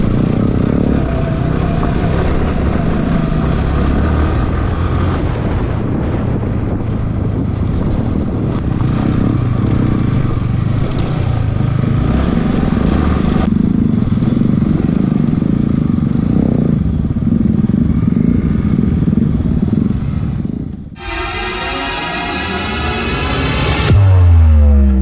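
A motorcycle rides off-road on a hill road to a temple near Bidadi, its engine a loud continuous drone with rough clattering, then dipping briefly before revving back up near the end.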